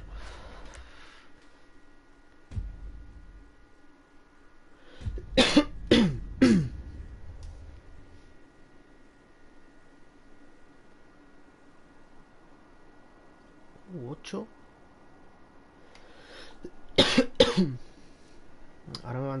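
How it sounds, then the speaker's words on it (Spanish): Several bursts of coughing, a couple of clusters of harsh coughs close by, separated by quieter stretches with faint background noise. "La tos"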